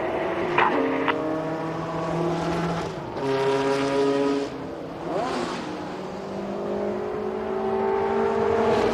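RAF Red Arrows jets fly a display formation over the Goodwood Festival of Speed, smoke on through a left-hand turn. Their loud, steady engine roar swells and shifts pitch as the aircraft pass, with no talking.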